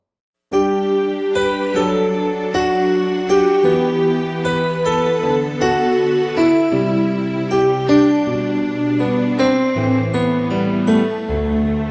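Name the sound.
keyboard synthesizer with bell timbre added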